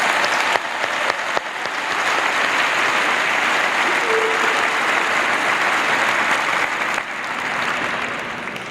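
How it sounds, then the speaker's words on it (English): Loud, sustained audience applause for finalists at a 2015 high school graduation ceremony, a broad crowd clapping in a large hall, rising quickly and holding steady for several seconds before easing slightly near the end. "Let's have a round of applause for these outstanding finalists."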